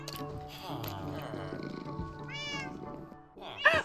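A house cat in the Minecraft video game meows repeatedly in short, tonal calls, one louder meow near the end, layered over steady game background sounds.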